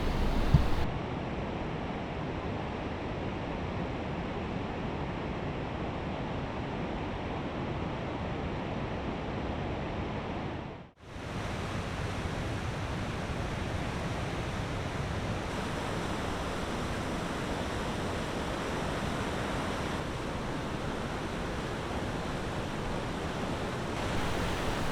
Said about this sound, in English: I made a short detour to the waterfall